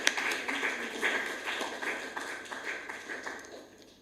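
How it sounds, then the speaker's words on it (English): An audience at a school event claps for teachers and faculty, a moderate patter of hand claps that fades toward the end. "Please clap for them."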